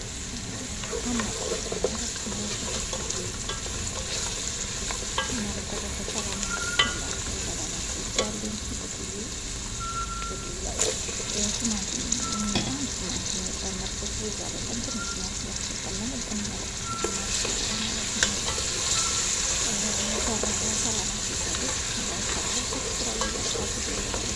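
Onions frying in a pan for a simple vegetable rice, stirred now and then: a steady, close sizzle runs throughout with light scraping, and a voice is faintly present in the background.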